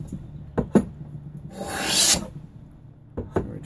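A wooden hollow and round plane takes a shaving, a rasping scrape lasting about half a second, with a few short knocks and taps before and after, close and fairly quiet.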